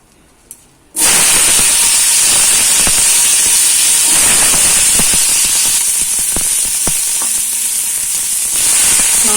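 Turmeric and spices dropped into hot oil in a home kitchen, bursting into a loud, close, continuous sizzle right after a brief quiet moment, hissing steadily throughout.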